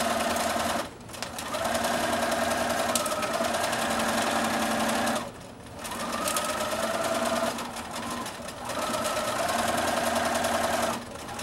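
A sewing machine stitches a straight line across fabric for a bag, with a back stitch to secure it: three loud, close runs of rapid mechanical whirring separated by brief pauses.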